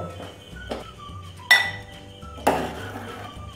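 Boiled soybeans are scooped from a metal cooking pot after the gas is turned off, with two sharp metallic clanks of a utensil against the pot among softer scraping and knocks, close by and without speech.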